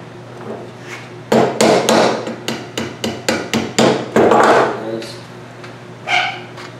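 Steady run of about a dozen sharp, loud hammer blows, fairly close and evenly spaced, drives a hardware-store cotter pin through the shoulder of a large wooden Uncle Sam arm-waving whirligig, with a low hum underneath and a brief rustle at the end.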